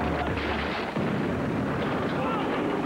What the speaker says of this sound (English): When an antique cannon arouses interest